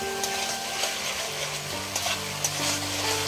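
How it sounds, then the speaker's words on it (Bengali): Chilies frying in oil over a low gas flame, a soft continuous sizzle with faint scattered crackles and a steady background hum. "একদম গ্যাসের আঁচটাকে কমিয়ে 15 থেকে 20 সেকেন্ডের মতন ভেজে নেব"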